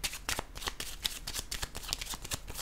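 Tarot cards are shuffled by hand in quick, close, rhythmic riffling bursts, a steady crisp flutter of paper repeated many times with no talk.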